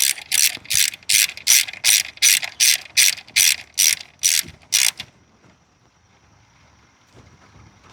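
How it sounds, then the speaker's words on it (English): A socket ratchet snugging a 10mm bolt on the spark plug harness of a third-generation Honda CR-V, about eleven crisp ratcheting bursts in quick regular rhythm, loud and close, then near silence. "We'll take our 10mm socket and we'll just hand tight this back on."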